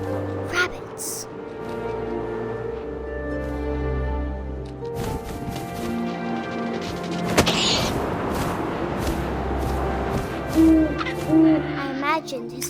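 An owl hoots in the video game What Remains of Edith Finch, with a few soft hoots near the end over a wind-like ambient bed and a narrating voice.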